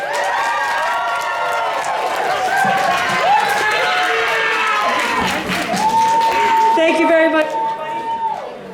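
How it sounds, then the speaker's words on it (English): A convention masquerade crowd claps and cheers for the judges, a lively mix of applause, whoops and excited voices, loud and close, with people shouting and talking throughout. "Let's give another round of applause to our judges."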